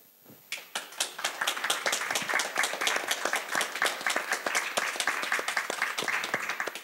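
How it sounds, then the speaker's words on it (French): A few scattered claps quickly swell into brisk, lively applause from a modest audience at a French-language talk on artificial intelligence and privacy, with many distinct hand claps heard close up. "on peut les applaudir"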